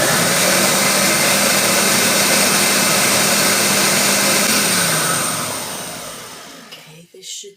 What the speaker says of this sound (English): now we'll blend this up thoroughly